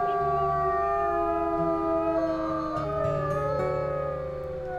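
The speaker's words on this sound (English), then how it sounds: "And then we'll do a little howl." A wolf howls in the survival game Accurate Ironwolf, with several long, sustained, wavering tones layered together like a chorus that carries steadily over a low background.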